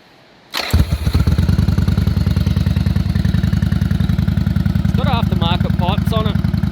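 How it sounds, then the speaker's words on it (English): A Yamaha Virago 750 (XV750) motorcycle with aftermarket exhaust pipes fires up and settles into a loud, close, steady low-rumbling idle with an even pulsing beat, with a voice speaking over it briefly near the end. "Aftermarket pipes on it. They've got a nice low rumble."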